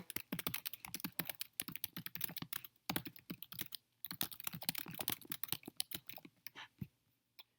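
Close, quiet typing of a comment on a computer keyboard: rapid, uneven bursts of crisp key clicks with short pauses between runs of keystrokes, heard alone.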